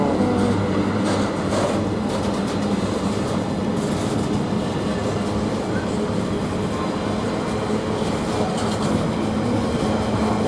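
Railway wagons roll past close by at Ely train station, a loud, continuous rumble and clatter of wheels on track that holds steady throughout.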